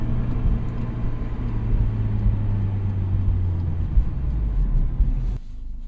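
A Honda S2000 AP1 driven in freezing weather, heard from inside as a steady low engine and road rumble that drones on, then drops abruptly near the end.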